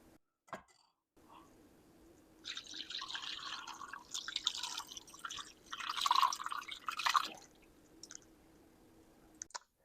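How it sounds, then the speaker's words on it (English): Cooking liquid from a giant pot of North Carolina pulled pork poured through a small kitchen strainer, a steady splashing, trickling stream that swells and fades over several seconds, close and fairly quiet, with faint drips at the edges. "the rather delicate task of pouring this giant pot through this tiny strainer"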